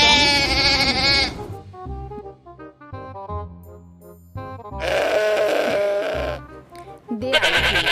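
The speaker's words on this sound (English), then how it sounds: "This is farm animal. Sheep." Sheep bleating on a farm, several loud, wavering cries that stop and start, with quieter lower tones between them and a final burst of bleats near the end.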